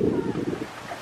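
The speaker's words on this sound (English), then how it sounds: "it is a little windy" Wind buffets the microphone in a steady low rumble, fairly loud and continuous through the short moment.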